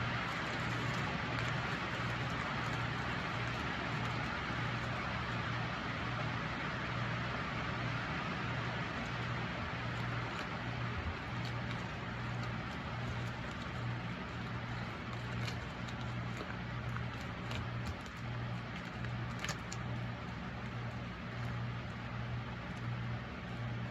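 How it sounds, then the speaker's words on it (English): Heavy rain pours steadily outside, a dense, loud broadband hiss that holds for the whole stretch with no voices over it. "That rain is really coming down."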